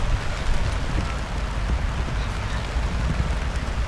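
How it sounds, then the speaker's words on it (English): Steady rain falls across a cricket ground during a match, giving a dense, continuous hiss and patter at fairly loud level with no pauses. "And now the rain's down"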